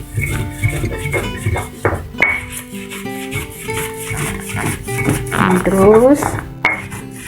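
Coconut and spices being ground for rendang, a run of close scraping, knocking and rubbing strokes against a hard surface, with someone speaking over them.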